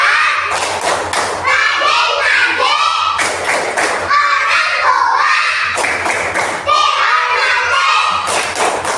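Schoolchildren in an Indonesian classroom clap and chant together in a rhythmic group routine, loud bursts of claps with shouted voices repeating in regular cycles.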